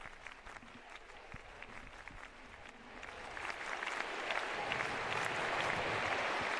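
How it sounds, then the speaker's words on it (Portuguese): A large crowd of worshippers at an outdoor papal Mass in Gran Canaria applauds Pope Leo XIV, the clapping beginning moderately and then swelling into a loud, sustained ovation. "O agradecimento dos fiéis, de todos os presentes, com efusivos aplausos ao Santo Padre"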